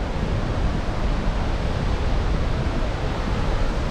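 Waterfall in Quebec City, a continuous broadband rush of falling water that stays loud and steady without breaks.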